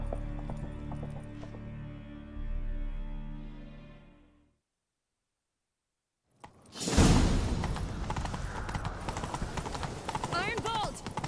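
Galloping horse hooves in The Witcher 3, a steady clip-clop rhythm after a brief silence, mixed with game music, whooshes and character voices talking over the ride.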